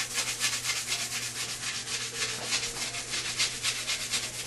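Steady scrubbing with the scouring side of a sponge on bathroom counter grout, a continuous rhythmic rubbing with quick back-and-forth strokes, close and fairly loud with no talking.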